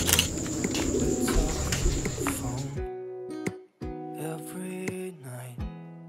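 Several racing pigeons from a Kenwood-bred championship loft coo in a steady series of low, repeated calls, close and fairly loud, with some background bird chatter and rustling at the start.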